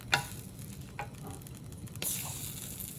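Dried flat noodles stir-fried with garlic and vegetables in a pan over high heat give a soft steady sizzle, punctuated by light scraping and tapping from stirring, with no talk.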